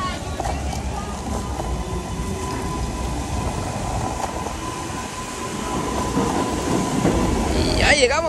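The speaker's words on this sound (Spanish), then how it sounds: "Y ya llegamos al tren." A New York subway train in Queens rumbles past nearby, a steady heavy roar of wheels on rails that swells toward the end with a brief metallic squeal.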